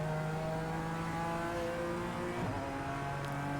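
A GT4 race car engine at Monza in a racing video game holds a steady high drone with a brief dip and shift around a corner, loud and continuous, no talk.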